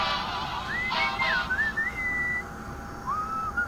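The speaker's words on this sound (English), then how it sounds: "What is that enchanting whistling sound?" A melodic, sliding whistle drifts through a scene in the Sam and Max video game, clear wavering tones that bend up and down in short phrases over a quiet background.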